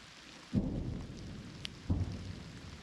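Rain falls in the Serebryansky forest amid ongoing fighting, a steady soft hiss broken by two heavy, low booming thuds nearby.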